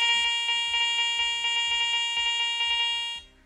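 A metal detector gives a steady high electronic tone for an aluminium target, with faint rhythmic tapping or scraping beneath it, before cutting off abruptly near the end.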